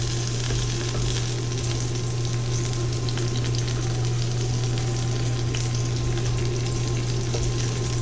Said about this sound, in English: onions in here. Start them caramelizing a little bit.